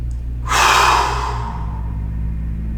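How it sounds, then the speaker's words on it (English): Deep breath drawn in through the nose by an adult man demonstrating slow breathing, a single loud rushing inhale that swells then fades over about a second, close up above a low steady background hum. "I'm just breathing in as deeply as I can, in through the nose."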